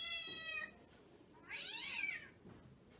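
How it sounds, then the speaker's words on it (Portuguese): A cat meows twice, a drawn-out rising and falling cry near the start and a second clear meow in the middle, close and distinct against quiet background. "Isso, ele está miando."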